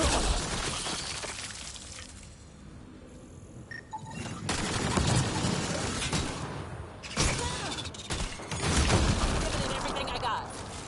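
Shooting in the sci-fi video game Mass Effect: Andromeda, with bursts of gunfire and impacts over a steady game soundscape; a voice briefly comes through.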